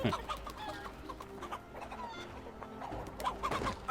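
Chickens cluck in a farmyard in Assassin's Creed Valhalla, several close, choppy bursts of clucking over a low background of game ambience, with no talking.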